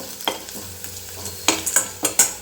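Garlic frying in a pan with a faint sizzle, broken by several sharp scraping stirs of a spatula that grow louder toward the end.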